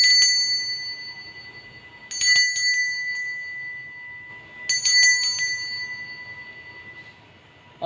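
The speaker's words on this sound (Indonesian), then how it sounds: "Kita akan memulai dengan ditandai lonceng berbunyi." A bright metallic bell rings in two short bursts of quick strikes to open a tarot card reading, each leaving a long, fading ring in an otherwise quiet space.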